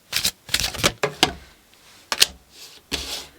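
Tarot cards are shuffled in a few quick riffling bursts with short pauses between them, close and crisp with no talking.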